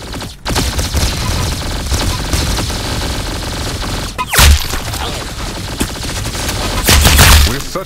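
Rapid gunfire from the video game Arsenal, loud and close, with dense, continuous bursts and a few sharper, heavier shots standing out near the middle and the end.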